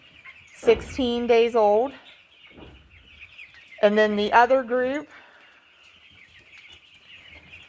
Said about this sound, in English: Cornish rock cross meat chickens